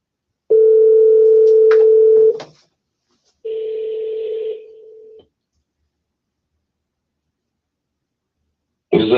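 Dial tones and touch-tone dialing beeps from a phone as a call is placed, a long steady tone followed by a shorter tone burst, then silence before a voice begins at the very end.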